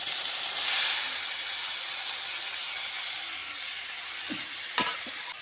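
Red amaranth greens dropped into hot oil with fried dried chilli, a loud hissing sizzle that settles into a steady fry, with a few stirring clicks near the end.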